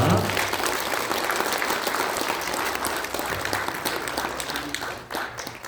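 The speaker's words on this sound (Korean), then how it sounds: "다시 한번 여러분들 큰 박수 부탁드립니다." Crowd at a Korean political party launch ceremony gives loud, sustained applause, many hands clapping densely and close, tapering slightly near the end.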